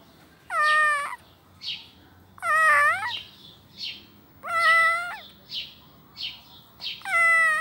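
A small, sick kitten cries out in pain with rising, strained meows, close and clear, repeating roughly every two seconds with softer whimpers between them and no voices present.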